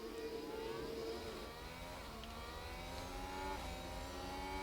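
Several Formula One cars in the F1 Manager 22 video game at Bahrain, engines whining and shifting pitch as they run in a close pack, loud and continuous with overlapping revving tones.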